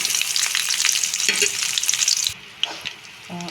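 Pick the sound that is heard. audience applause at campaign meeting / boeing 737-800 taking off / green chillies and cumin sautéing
green chillies and cumin sautéing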